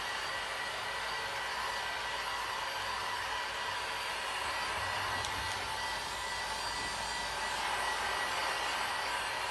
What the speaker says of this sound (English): I think I'm gonna heat gun it first.